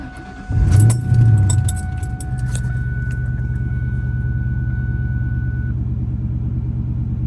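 A car engine cranks and fires after an oil change, a short loud start burst followed by a steady close idle with a faint tone running above it.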